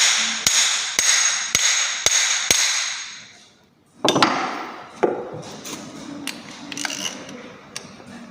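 A hammer strikes sharply and evenly five times during charging system repair work, then a pause, followed by more scattered knocks and clatter with ringing tails, close and loud.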